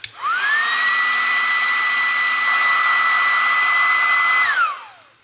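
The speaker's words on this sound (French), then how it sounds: "avec un sèche-cheveux, ça va faire un peu de bruit" A hair dryer used on a 1/25 scale Revell Mitsubishi Eclipse model kit starts up with a rising whine, blows loudly and steadily for several seconds, then winds down as it switches off.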